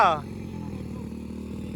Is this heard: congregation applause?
no